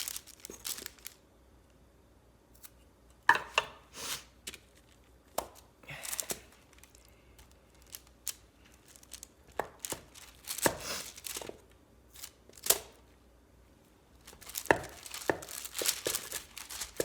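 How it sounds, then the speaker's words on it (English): A knife cuts a block of homemade rainbow soap into bars with sharp, sparse slicing and crunching strokes, separated by quiet pauses, close by and moderately loud. "you can just cut it whatever shape you want, whatever thickness you want"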